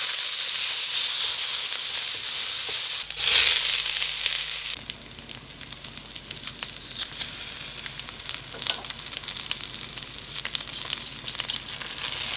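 Bell peppers fry in oil in a pan with a steady broadband sizzle that flares louder for a moment early on, then settles into a softer, crackling hiss for the rest, with no talking.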